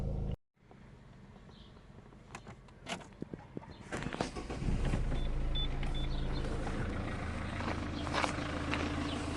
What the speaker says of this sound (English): Car started, running for 2 minutes